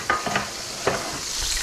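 Chicken pieces deep fry in oil in a wok, giving a soft, continuous sizzle and bubbling with a few brief stirring clinks, close and fairly quiet.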